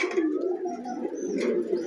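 Pigeons coo at a pigeon sale, a soft, rolling low-pitched cooing that runs continuously and close by, with a few faint higher chirps layered on top.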